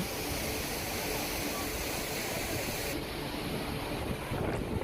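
Athirapally waterfall gives a dense, steady rushing roar of falling water, loud and unbroken across the few seconds, with the broadband wash easing slightly in its upper range partway through.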